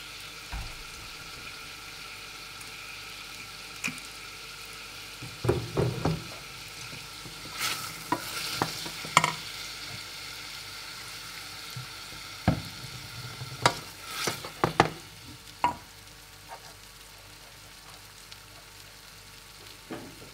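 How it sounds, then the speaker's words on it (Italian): Meat frying in a thin film of olive oil in a pan, a quiet continuous sizzle broken by several bursts of louder crackling and scraping as the pieces are stirred. "Per cuocere la nostra carne ho messo semplicemente un filo d'olio d'oliva sulla padella."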